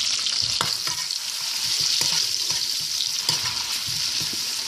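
Ground spices sizzle in hot olive oil and butter in a pot, a continuous close hiss broken by a few soft scraping stirs.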